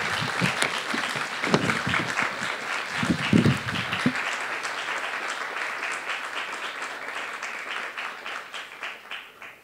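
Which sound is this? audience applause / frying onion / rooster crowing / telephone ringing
audience applause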